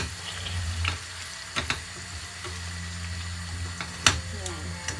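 Chicken frying in a pan with a steady sizzle, a few sharp clinks of a utensil stirring it, close and fairly loud, with no one talking.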